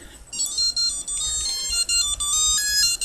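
Bright, beeping electronic chiptune tones from a Tiger handheld electronic game play in short melodic bursts, thin and high-pitched.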